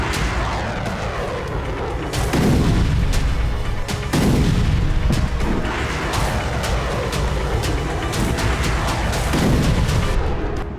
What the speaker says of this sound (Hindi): Su-27 फाइटर जेट से AGM-88 हार्म मिसाइल दागी जा रही है।